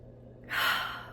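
A single deep breath drawn in through the mouth, a soft airy rush that swells after a quiet pause and then slowly fades, close and alone with no talking.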